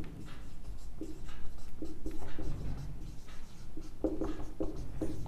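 Handwriting on a surface while working a linear inequality problem for a Class 11 maths lesson, with scratchy pen or chalk strokes coming in short bursts throughout, fairly close and steady, with no talking.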